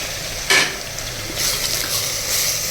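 Mutton cooking in a pot gives a steady loud sizzle with a stirring scrape near the start and swelling frying hiss afterwards, with no talk.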